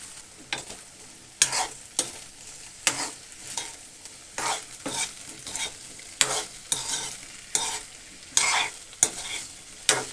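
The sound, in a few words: okra and cumin frying and sizzling in oil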